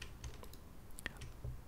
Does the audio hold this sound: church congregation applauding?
no